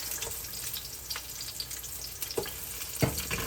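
Garlic, shallot, ginger and lemongrass sizzle softly in hot oil, a low steady frying hiss with a few light clinks and taps near the end.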